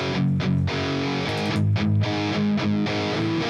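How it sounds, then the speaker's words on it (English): Heavily distorted electric guitar through a Mesa Boogie Dual Rectifier amp model with a boost in front, chugging thick, saturated power chords in a steady rhythm, loud and close with no talking. "C1 Elite played through a Mesa Boogie rectifier, dual rectifier model,"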